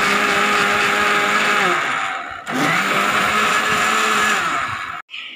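A kitchen blender whirs steadily at high speed, churning cream into homemade butter, with a loud continuous motor drone that dips briefly midway and cuts off near the end.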